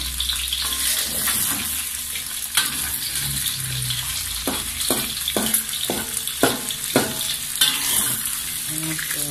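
Steady sizzling of eggs frying in a pan, with a run of sharp clacks from a utensil scraping and stirring near the end.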